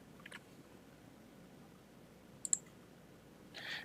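Faint computer mouse clicks sound in cabinet design software, a few quick isolated taps spread across several seconds over a quiet room hum.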